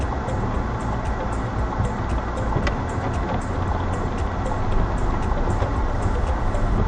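A car pulling away and building speed on a driving test route, its engine and road noise forming a steady, close drone that swells slightly as it accelerates, with no talk over it.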